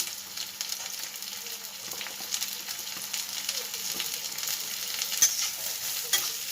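Green beans and carrots stir-frying in a pan for egg noodles, a soft, steady sizzle dotted with light spatula scrapes and taps, heard close and without talk.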